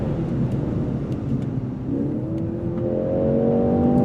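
A 2024 Mercedes-AMG C63 S E-Performance accelerates hard. The loud, steady engine drone rises in pitch through a clear upshift, heard from the cabin with no one talking.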